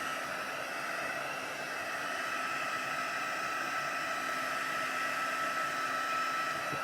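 A hair dryer blows steadily over a paper art journal page, a continuous close broadband whoosh with a faint motor hum, unchanging for the whole stretch.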